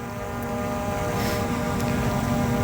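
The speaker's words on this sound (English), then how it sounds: "Using the left stick, I'll rotate the drone." Quadcopter drone rotating in flight, its propellers giving a steady, even buzz with a constant tonal whine, close and continuous throughout, with no talking.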